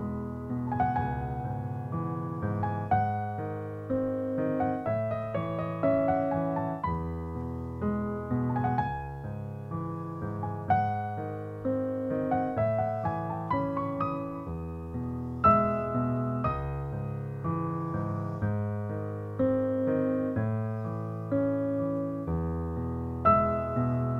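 Solo piano plays an arrangement, both hands together, with a steady low left-hand pattern under a melodic right hand, clear and close, no talking.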